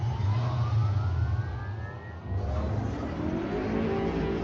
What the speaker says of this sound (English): Engines on.